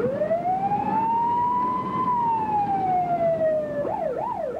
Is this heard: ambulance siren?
yes